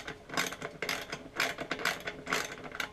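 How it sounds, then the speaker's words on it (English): A ratchet wrench tightens 7/16 bolts into holes during an installation, quick bursts of rapid clicking repeated about every half second, close and clear with no talk. "we're going to take a 7/16 and just tighten these up in the holes"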